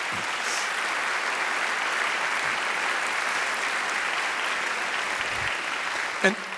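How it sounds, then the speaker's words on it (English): Applause fills a university auditorium during the UNT State of the University address, an even, continuous wash of many hands clapping with a small thump near the end. "big round of applause from all of us"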